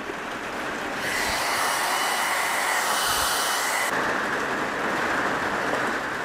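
A hair dryer blows on a watercolor painting with a steady broadband whoosh, close and constant, its pitch brightening after a second and shifting slightly near the four-second mark.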